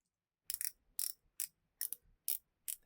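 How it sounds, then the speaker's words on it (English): Rotating bezel on a budget BB58-style dive watch, turned in six short bursts of crisp ratcheting clicks, each burst a quick cluster, very close and isolated against silence. "it's actually 120 click as well. So I'll show you that in action now. So it's a pretty nice clicky action."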